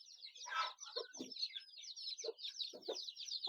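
A desi hen clucks softly and repeatedly among her newly hatched chicks on a village poultry farm, with the chicks' continuous high peeping running underneath, all close and quiet.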